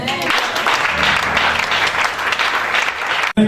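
A crowd at a church service applauds, with loud, dense clapping that runs steadily for about three seconds before cutting off abruptly.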